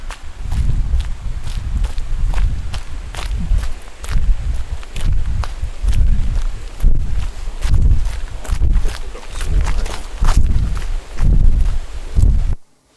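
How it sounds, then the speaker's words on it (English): Footsteps crunch steadily over gravel outdoors, each step landing with a loud, deep bump in a regular walking rhythm, close and alone for about twelve seconds before stopping abruptly. "And I used the Walking Gravel with Loud Deep Bumps sample."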